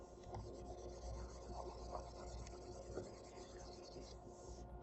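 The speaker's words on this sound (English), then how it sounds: "Let me erase this super quickly." An eraser rubs back and forth over writing in a quiet, continuous scratchy scrubbing, close up with no talk.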